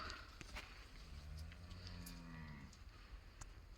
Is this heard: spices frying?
no